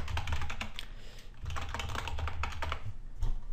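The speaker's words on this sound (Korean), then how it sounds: "이걸 클릭하고 여러분의 유튜브 아이디를 입력하시면 됩니다" Rapid keystrokes on a computer keyboard entering a YouTube ID, a steady close clatter of clicks with no speech.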